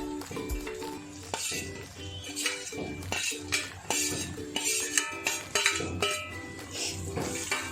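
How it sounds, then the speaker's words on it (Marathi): Bitter gourd being stir-fried for karela bhaji, with a metal spoon scraping and clinking repeatedly against the pan in an uneven rhythm, close and fairly loud, with no voices. "छान परतवून घ्यायचं आहे."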